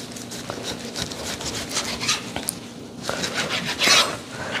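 Knife sawing through raw beef into two-finger-thick slices, a close, scratchy rasping with rhythmic rubbing strokes and soft taps, no talk.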